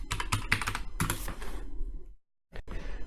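A computer keyboard clatters under quick, dense typing of a command for an architectural drafting drawing, then falls silent briefly before a few more keystrokes resume, close and clear with no talking.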